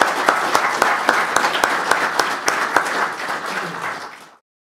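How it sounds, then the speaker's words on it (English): An audience applauds its panelists after a farming discussion, producing a close, lively burst of distinct claps in an irregular patter that thins and fades out abruptly near the end. "let's give a round of applause to our panelists"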